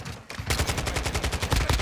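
Rapid bursts of gunfire in the video game Modern Warfare 2, a loud, dense string of close shots after a brief pause, without any talk.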